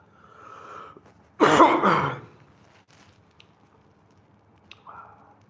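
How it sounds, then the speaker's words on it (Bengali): A single harsh, close cough bursts out between quiet stretches, followed by softer breathing and faint movement. "কাশি হচ্ছে"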